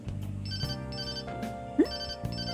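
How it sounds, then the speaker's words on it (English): A phone rings in the video game Persona 5 Royal, a bright repeating electronic ringtone in short regular bursts over soft background music, with no talking. "Phone call."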